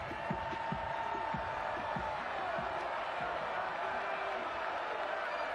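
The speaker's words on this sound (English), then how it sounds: "And the crowd getting louder and pulsing." A college football stadium crowd at South Alabama versus Georgia Southern roars in a broad, distant wash of noise, punctuated by rhythmic pulsing thumps as the crowd builds in intensity.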